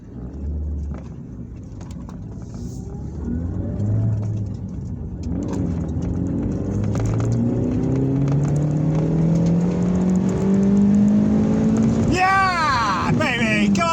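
A new car engine accelerates up close, its pitch climbing steadily under a loud, continuous drone, with voices partly heard over it and a sharp whining rise near the end.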